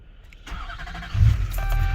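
A 2004 GMC Sierra 2500HD with the 6.6-liter LB7 Duramax turbo diesel, slightly warm, cranks briefly and then catches, settling into a loud, close, low diesel rumble.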